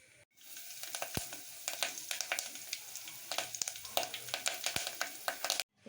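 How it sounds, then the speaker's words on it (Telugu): Mustard seeds, cumin, dried chillies, garlic and curry leaves are tempered in hot oil for mango dal, giving a steady close sizzle broken by sharp crackling pops and spits throughout, with no talking. "మనం పోపు వేసుకోవాలి."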